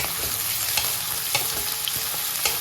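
Sliced onions fry in a pan with garlic and green chili, making a loud close sizzle punctuated by a few sharp stirring knocks of a spoon.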